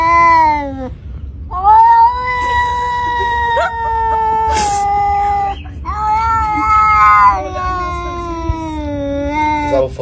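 An unneutered cat meows and caterwauls loudly at close range, long wailing, wavering cries repeated one after another with brief gaps between them.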